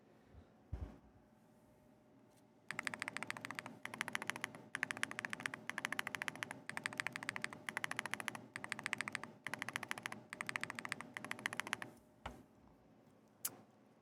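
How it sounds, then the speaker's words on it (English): A custom mechanical keyboard typed on in rapid, dense bursts of crisp clicks and clacks for about ten seconds, faint and close, with quiet stretches before and after. "technically all custom keyboards are not really worth it, but they sound and they feel nice"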